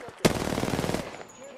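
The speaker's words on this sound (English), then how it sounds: "Under fire." Automatic weapon fire in Apex Legends, a sharp onset followed by a rapid, steady burst of shots lasting under a second, close and loud, then trailing off.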